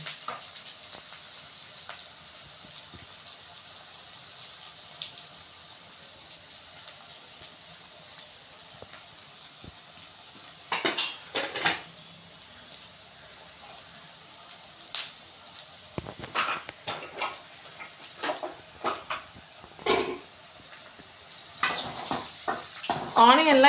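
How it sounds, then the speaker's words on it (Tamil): Onions sprinkled with salt sauté in a pan for tomato rice, a soft steady sizzle that grows busier as a spatula stirs and scrapes in bursts. "ஸோ வெங்காயம் வதங்கிறதுக்கு லைட்டாக சால்ட்டு தூவி விட்டுட்டு வதக்கிக்கலாம்"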